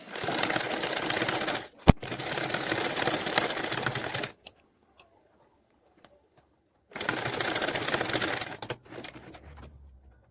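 A sewing machine fitted with a zipper foot stitches fabric pieces together, running loud and steady in two long bursts with a quiet pause between, where only a few faint clicks are heard.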